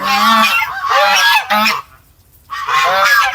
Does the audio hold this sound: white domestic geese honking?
yes